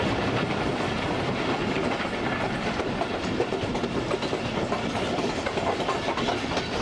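A Tezgam passenger train rolls along the rails from Karachi toward Khanpur at modest speed, a steady loud rumble with continuous rhythmic clickety-clack heard from on board, no voices.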